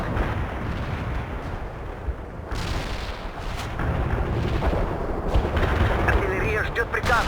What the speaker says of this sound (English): Our barrage hit the target.